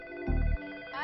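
A telephone rings once in a short electronic burst, moderately loud, with a steady tonal hum continuing around it; no one speaks.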